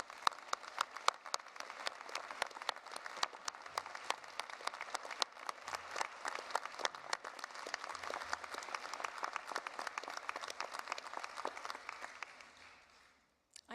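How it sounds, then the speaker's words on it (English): Graduation ceremony audience applauding graduates, brisk continuous clapping from many hands, fairly distant in a large hall, tapering off abruptly at the end. "I invite you to share your appreciation for their achievement by applauding their efforts once again."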